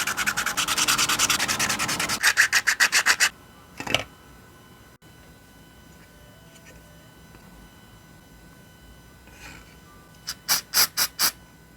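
Hand sanding a small crystalfly miniature with 120 and 240 grit sandpaper: quick bursts of rapid rubbing strokes, then a quiet pause with a single scrape, and another short run of strokes near the end.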